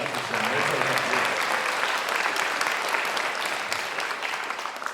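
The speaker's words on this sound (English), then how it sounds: "You can give a round of applause for the Lesher Center." An audience at a high school spring concert in the Lesher Center for the Arts applauds, a dense sustained clatter of many hands that slowly tapers toward the end.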